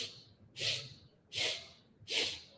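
Three short, forceful nasal sniffs repeat at a steady rhythm during a yoga breathing exercise, each a breathy hiss close to the listener with brief quiet gaps between them and no talking.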